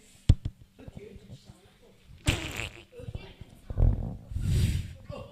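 A child makes a mouth fart imitation, a short buzzy burst followed by a couple of longer raspy blows, with an adult speaking between them.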